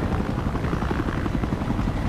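Helicopter rotor and engine from the video game Battlefield Play4Free, a steady, close, loud chopping drone that holds evenly throughout with no other sounds.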